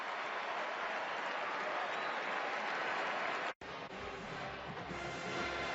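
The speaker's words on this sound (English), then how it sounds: "now they applaud as Seastrunk's able to get up" Stadium crowd at a 2013 Oklahoma vs Baylor college football game applauding steadily as injured player Lache Seastrunk gets back up, a broad, even roar of clapping that cuts out abruptly and resumes more faintly.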